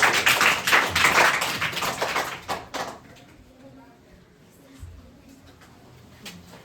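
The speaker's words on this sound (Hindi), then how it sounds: "बहुत बढ़िया, जोरदार तालियां।" Students in a class 7 science lesson clap together in a short, lively burst of applause lasting a few seconds, then the room falls quiet apart from faint small noises.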